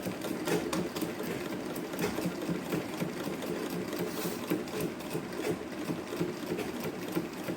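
A sewing machine stitches a gold border onto a traditional pattu pavadai sattai top, its rapid needle chatter running steadily and close throughout at moderate volume with no talking.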